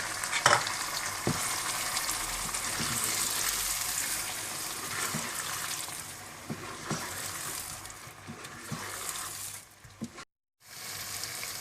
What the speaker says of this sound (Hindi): प्याज वो डाल दें और साथ ही आप दूध के साथ पिसे हुए बादाम भी डाल दें और इसे आप अच्छी तरह से भून लें